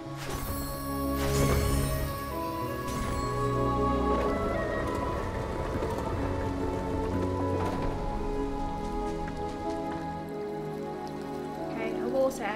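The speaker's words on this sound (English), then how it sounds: "Well, it's raining now, isn't it?" Rain falls in the video game Ori and the Will of the Wisps, a steady hissing patter spread evenly across the scene and mixed with sustained in-game music.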